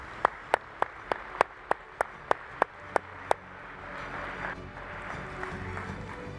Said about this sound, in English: we're gonna clap for you, and then you can sit down